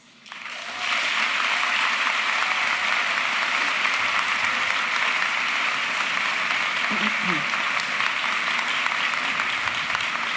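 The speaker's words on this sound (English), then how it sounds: "So you can applaud for me twice." A large crowd breaks into loud, sustained applause that starts abruptly and continues steadily without letting up.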